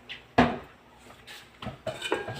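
A lid clanks onto a metal cooking pot of simmering saba mackerel, one sharp close clatter followed by a few lighter metallic knocks and rattles.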